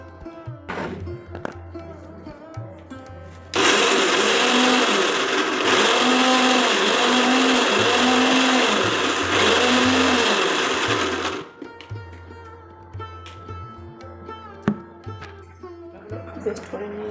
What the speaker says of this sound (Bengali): তো এখন মিক্সিতে পেস্ট করে নিচ্ছি মশলাগুলো।